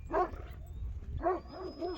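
A large young dog gives two short bursts of whimpering yips close by, each a quick cluster of high, plaintive cries about a second apart, over a low rumble of background noise.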